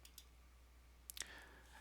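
A computer mouse clicks on Save, a few faint, sharp close clicks in a quiet room, the clearest pair near the end.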